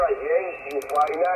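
Yaesu FTdx10 ham radio receiver putting out narrow-filtered audio with interference, wavering tones and a brief burst of rapid higher pulses partway through, heard close.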